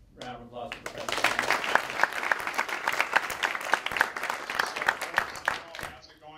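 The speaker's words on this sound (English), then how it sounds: "Everybody, round of applause for Professor Stengel." Round of applause from the audience at a 2013 TED Week panel, a full burst of many hands clapping for several seconds. Brief talk is heard at the start and end.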